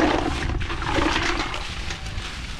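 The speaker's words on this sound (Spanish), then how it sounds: "Vamos a meter al agua para poder sacarlo." Snails dropped into water for a fish broth at an outdoor riverside cooking spot: a steady rushing, bubbling wash of water runs close and loud throughout with no voices.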